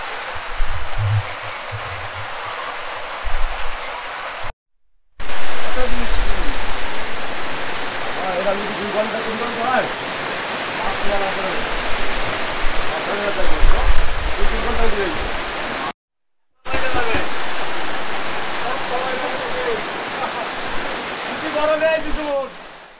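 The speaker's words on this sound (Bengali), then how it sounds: "বৃষ্টি হচ্ছিল" Steady rain pours down in the Sundarbans with a dense hiss, interrupted twice by brief gaps, with faint voices murmuring beneath the downpour.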